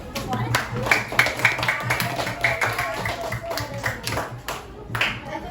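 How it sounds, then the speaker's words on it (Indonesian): A class of pupils clapping their hands together in a classroom, a scattered round of claps over the full stretch with voices talking throughout. "Udah, berarti kasih tepuk tangan dulu."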